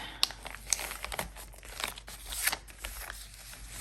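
A sheet of paper being folded by hand at a planning desk, with close, quiet crinkles, soft creasing rustles and a few sharper crackles spread over a few seconds, no speech.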